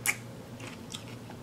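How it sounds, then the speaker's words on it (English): A crisp bite into crunchy cucumber coated in spicy seafood boil sauce, one close juicy crunch followed by brief soft chewing, heard up close with no talking. "when you get to like burst the juice from the cucumber"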